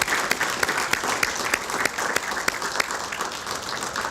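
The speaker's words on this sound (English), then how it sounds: "Please join me in one more round of applause for all 5 Wolff finalists this year." An audience at a university new venture competition bursts into dense, steady applause, a sustained wash of many hands clapping with a few sharper individual claps standing out.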